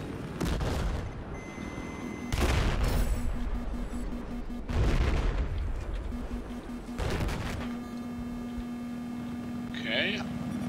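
Battlefield 4 gunfire on a crowded multiplayer server: repeated heavy bursts of shots and explosions every couple of seconds over a low steady hum, with a brief scattered crackle near the end.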